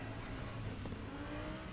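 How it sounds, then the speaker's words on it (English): An Audi race car engine at Suzuka drones and revs in a continuous, fairly faint hum with a slowly rising pitch, heard from a distance with no talk. "You can hear the engine purring going off."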